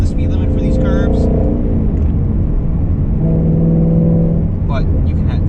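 A Ford Mustang sports car drives through a run of curves, its engine a steady, loud cabin rumble that rises and eases slightly, with a voice talking over it.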